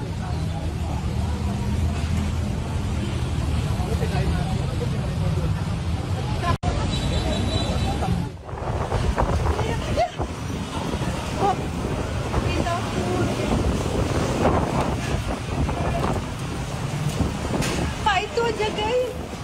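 Strong wind sweeping across Jakarta roars steadily throughout, a dense, gusty rush buffeting the microphone, with a brief drop in the middle and background voices murmuring underneath.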